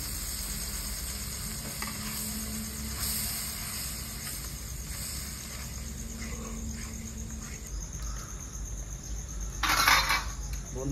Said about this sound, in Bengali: যতক্ষণ তেল না ছাড়ে তখন ভাজতে হবে